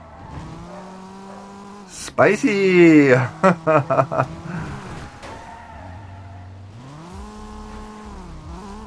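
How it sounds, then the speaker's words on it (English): A car engine from the Need for Speed Most Wanted video game revs and shifts through gears, with a burst of loud tire skidding and squealing in the middle, while someone talks over the game sounds. "Check out the engine sounds."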